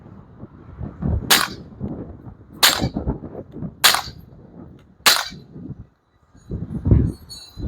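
Four .45 ACP handgun shots fired through a Dead Air Primal suppressor sound as sharp, loud reports spaced about a second and a half apart, with low outdoor rumble between them.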